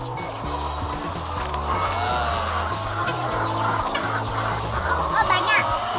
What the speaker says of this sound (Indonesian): Ini adalah ayam petelur, ya.